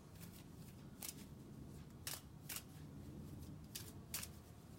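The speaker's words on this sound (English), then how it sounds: "I am going to shuffle each deck while you are focusing on your question." Two decks of playing cards, a bridge-size deck and a poker deluxe deck, being shuffled by hand, with several crisp riffling bursts spaced across a quiet background, fairly faint and close.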